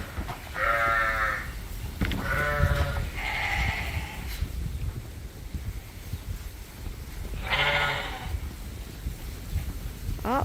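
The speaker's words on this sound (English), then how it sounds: "These are mainly the ewe lambs." Ewe lambs bleat on a farm on a dark, dreary day: several loud, wavering calls at mid distance, clustered early and again later, over a low breezy outdoor background.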